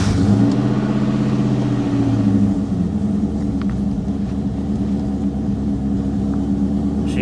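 A Ford Mustang GT V8 with a new clutch fires up and revs, a loud close rumble that swells early, then settles into a steady throbbing idle with a slight hesitation on the throttle.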